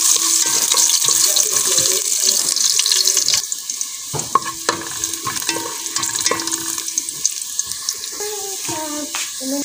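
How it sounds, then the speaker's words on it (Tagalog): Ginger sautéed in hot oil for adobong dilaw sizzles and fries in a continuous hiss, with spatula scrapes and stirring clatter on the pan recurring over the sizzle. "Unahin natin igisa yung ating luya para maluto siya."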